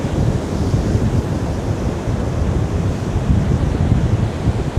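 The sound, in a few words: strong wind blowing on the beach at Lucky Bay, Western Australia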